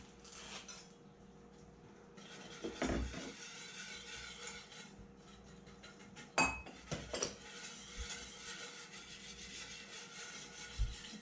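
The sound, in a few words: stirring sugar and salt into brine to dissolve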